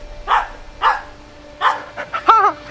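A voice imitates a dog barking, giving a few short woof-like yelps spaced apart, then a quicker run of higher, wavering yips at the end, close and fairly loud with a steady hum beneath.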